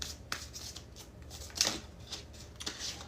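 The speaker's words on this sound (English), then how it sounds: "we're going to start your reading with the 3 more shuffles" Papery riffling of tarot cards being shuffled in several quick bursts, close and fairly soft, with brief pauses between them.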